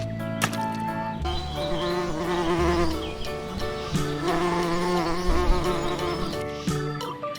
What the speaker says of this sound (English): Bee. This is bee.